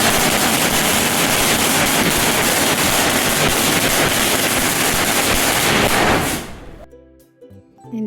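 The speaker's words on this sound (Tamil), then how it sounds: "அவரை வெல்கம் பண்ணுறதுக்காக பட்டாசுலாம் வெடித்து வெல்கம் பண்ணுவோம்" Strings of firecrackers set off in the morning for a baby girl's first birthday celebration, a loud dense crackling barrage of rapid bursts lasting about six seconds before cutting off abruptly into quiet.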